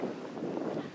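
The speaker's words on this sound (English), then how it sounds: "It is super windy today. Super windy." Wind rumbles hard against the microphone, a continuous low buffeting roar.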